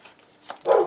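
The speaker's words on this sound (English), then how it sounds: "you can hear my dog barking" A dog barks in a short, close burst at the end of an otherwise quiet moment in a garden setting.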